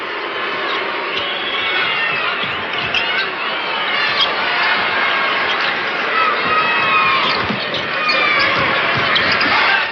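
Large arena crowd at an NBA playoff game in Las Vegas, a Lakers–Blazers matchup, roars and cheers steadily throughout, with sneaker squeaks and a bouncing ball faintly audible beneath the dense, continuous noise.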